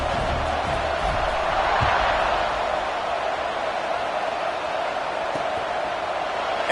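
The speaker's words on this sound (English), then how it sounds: "this crowd is buzzing after that last score" A football stadium crowd buzzes in a broad, steady roar that swells slightly early on and then holds, with faint voices scattered through the din.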